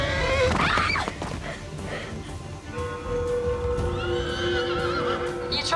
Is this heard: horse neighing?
yes